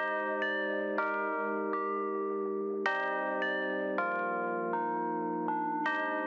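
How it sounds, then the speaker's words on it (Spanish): A bright synthesized bell sound called Iliad plays a trap melody of steady sustained notes stepping between pitches, clear and close, with no voices. "es una bell llamada Iliad"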